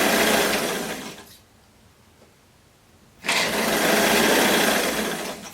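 A sewing machine backstitching at the corner of a blouse seam: a loud, steady whirring run, a pause of about two seconds, then another sustained run of stitching, close and with no talk.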